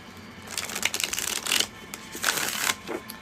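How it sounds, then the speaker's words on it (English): Tarot cards shuffled by hand in quick riffling bursts, close and crisp, in two or three rapid runs with short pauses between. "One more shuffle."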